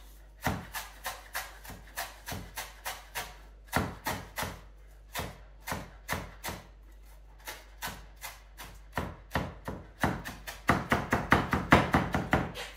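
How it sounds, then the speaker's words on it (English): Rapid knife chops finely cutting pea shoots on a cutting board, a steady run of sharp taps that speeds into a quick flurry near the end, close and crisp. "I'm just going to really finely chop up these pea shoots"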